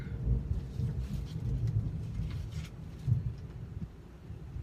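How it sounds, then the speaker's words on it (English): Thunder rumbles low and steady outdoors with a soft patter of rain, swelling briefly into a heavier roll near the end; no one speaks. "Thunder."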